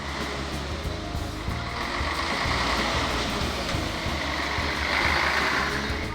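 Trucks and cars on a winding Kenyan escarpment road, engines droning and rumbling steadily as heavy vehicles labour past at moderate distance, a continuous traffic hum with wind, no voices.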